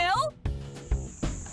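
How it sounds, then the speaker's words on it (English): A steady, thin chorus of crickets chirps in the background while people talk over it, the chirping continuing beneath their voices. "Those were real crickets."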